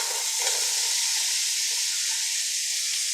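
Carrots, celery and onions sizzling in melted butter in a soup pot over medium-high heat, a steady, loud, broadband hiss of frying that holds evenly throughout with no talk.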